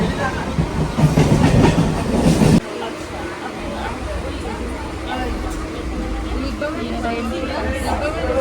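A train rattles loudly with busy chatter for a couple of seconds, then the sound drops to a quieter, steady rumble of rail travel.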